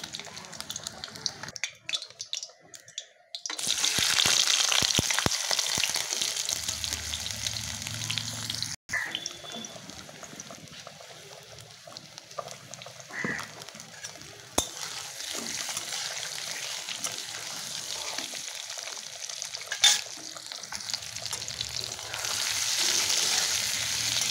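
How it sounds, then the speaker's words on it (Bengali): Potatoes fry in oil in a pan for an egg and potato mustard curry, giving a close, steady sizzle with a few sharp clicks of handling and short pauses, with no voices. "আলুগুলো লাল লাল ভাজা হয়ে গেছে, এবার তুলে নেব।"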